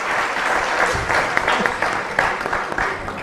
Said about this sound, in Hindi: And तालियां।